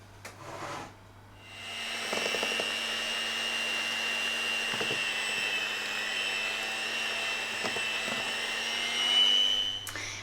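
An electric mixer whirs steadily through banana cardamom cake batter, a continuous close motor drone starting after a brief pause and holding for several seconds with slight changes in pitch and load.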